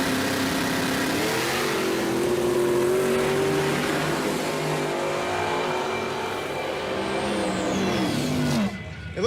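A muscle car launches on a drag strip with lowered launch RPM and lowered tire pressure, making a loud engine roar that climbs through gear changes and then fades into the distance before a sudden sharp noise at the end.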